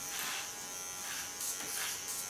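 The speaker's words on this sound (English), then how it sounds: "It's also a nice Christmas thought to have a golden clipper." A golden electric hair clipper buzzes steadily in a salon, a close, continuous hum with slight shifts in pitch as it moves.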